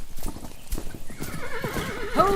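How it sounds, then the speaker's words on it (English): Horses' hooves clip-clop close by in an audio drama scene, a clear whinny rising near the end over a steady outdoor bed. "Where did that mad woman find horses?"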